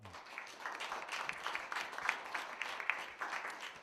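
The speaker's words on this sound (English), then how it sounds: "Let's give a round of applause." An event audience claps for the panelists at a One Book One Province gathering, a modest, fairly quiet round of applause heard from a distance, steady for a few seconds.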